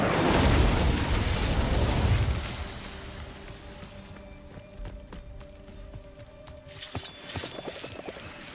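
The Incendio fire spell in Hogwarts Legacy erupts as a loud, roaring burst of flame for about two seconds, then fades into a quieter game ambience with faint crackles and a brief flare near the end.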